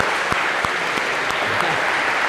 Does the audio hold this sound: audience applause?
yes